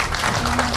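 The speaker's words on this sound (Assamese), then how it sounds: "তেখেতৰ কাৰণে সকলোৱে এটা হাত তালি দিয়ক।" A crowd claps in applause for Manoj Rabha at a BJP party-joining event. The clapping is a dense, steady patter that lasts under a second.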